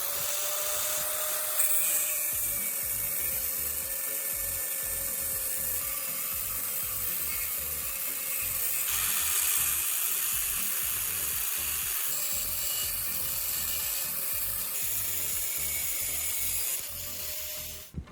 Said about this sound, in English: You use a small cutting wheel to trim one corner of the hanging hole and shape it into a simple hook.